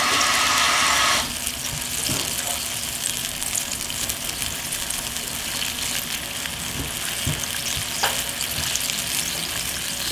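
Kitchen tap water runs steadily while hands are rinsed during scallop cooking, with a constant hiss alongside light clinks and faint pan sizzle throughout.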